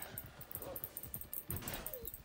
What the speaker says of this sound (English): I hear you barking